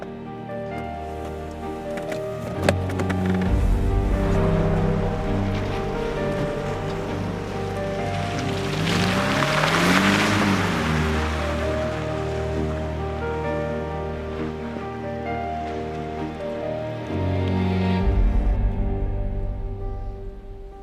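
Continuous rain pours steadily throughout, a broad, even wash of sound with low rumbling underneath and no speech.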